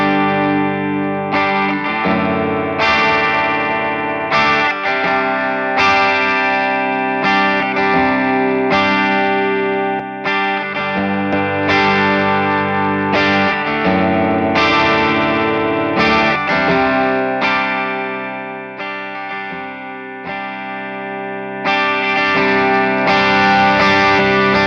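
Telecaster played through a Broadcast pedal with the gain turned up high, giving a loud, distorted electric guitar with a chorus-like shimmer. Strummed chords and picked notes run steadily for about twenty-five seconds with no talking.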